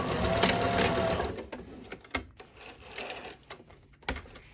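A sewing machine back stitches the ends of darts on a hobo tote bag at a short size 2 stitch length, giving several quick, close bursts of rapid mechanical stitching separated by brief pauses, with no talking.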